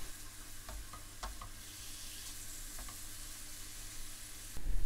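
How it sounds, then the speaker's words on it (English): Onions fry gently in oil in a pan over low to medium heat, a steady soft sizzle broken by a few clinks and scrapes of stirring, and a louder knock near the end. "Add the oil and onions to a pan and heat on low to medium until soft and beginning to brown."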